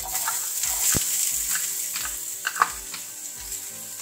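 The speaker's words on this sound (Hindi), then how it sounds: "उसी पैन में हम 2 चम्मच तेल और डालेंगे प्याज फ्राई करने के लिए" Chopped onions frying in oil in a pan, a steady close sizzle with occasional soft stirring scrapes and small pops, no voices.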